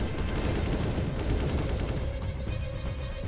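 Sustained gunfire in the video game CS:GO, a dense, loud barrage of rapid shots running continuously without pause.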